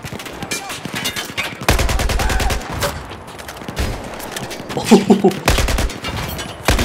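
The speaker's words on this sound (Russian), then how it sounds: "стреляет" Rapid bursts of automatic gunfire in Battlefield 4, loud and close, alternating with brief pauses and quieter stretches, with a voice speaking over parts of the firing.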